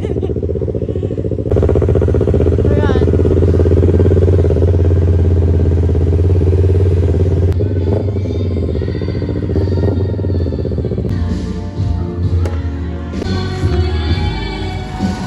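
Big bike motorcycle on a road in Masbate passes with a loud, steady low engine rumble and clatter that fills most of the clip, dropping back near the end, with a brief spoken word over it.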